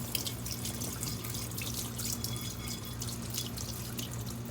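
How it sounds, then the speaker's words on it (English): Tap water runs steadily into a sink to rinse a glass etched with Armour Etch, a constant close splashing hiss with a low hum underneath and no talk. "So I'm just gonna turn on the water here and just start to rinse it."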